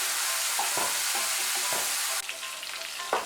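Fish fries in oil in a pan with a dense, crackling sizzle, while a spatula scrapes and taps several times as the pieces are lifted out. The sizzle drops suddenly partway through, all close up and without talk.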